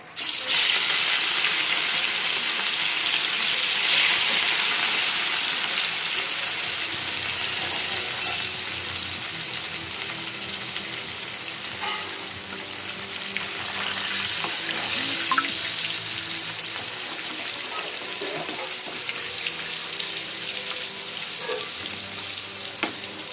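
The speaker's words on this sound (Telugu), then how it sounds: "ఆయిల్ హీట్ ఎక్కింది. ముక్కలు వేయించేసుకున్నాం" Pieces of fish fry in hot oil in a pan on a stove, giving a loud, steady hiss and crackle that runs for the whole stretch with small spits and pops and no talk.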